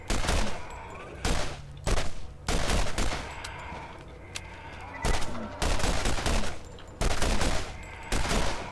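Enemy gunfire in the video game Borderlands, Claptrap's New Robot Revolution DLC, comes as about ten loud bursts of rapid automatic fire, each around half a second long, with brief gaps between them.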